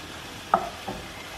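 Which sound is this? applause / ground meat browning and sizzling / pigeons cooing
ground meat browning and sizzling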